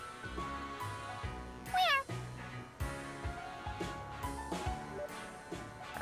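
A cat meows in the Trails to Azure video game, a short clear cry amid game music and sound effects, with a brief swooping chime partway through.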